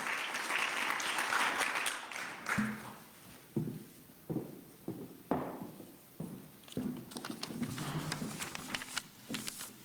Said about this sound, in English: Please give her a round of applause and join me in welcoming her.